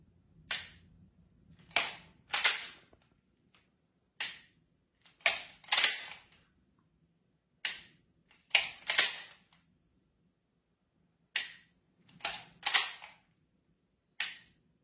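Sharp dry-fire trigger clicks from an unloaded handgun during home practice, about a dozen crisp isolated snaps, some in quick pairs, with silence between.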